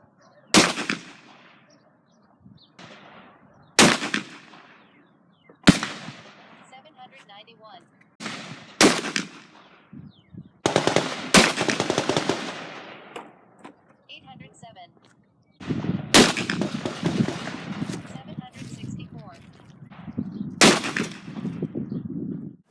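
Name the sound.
gunshots from a Charter Arms Bulldog .44 Special revolver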